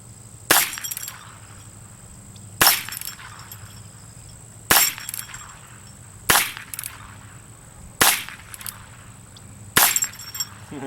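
Six sharp gunshots from a Colt Frontier Scout pistol, fired one at a time about two seconds apart, each a loud crack with a brief ringing tail over a low background hum.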